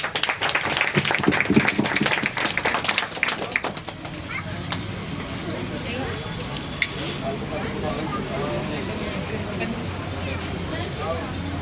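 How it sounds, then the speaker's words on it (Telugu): An audience at a village stage event claps together: dense, steady applause that runs throughout, strongest over the first few seconds, with a voice speaking over it. "అందరు చప్పట్లు కొట్టారు"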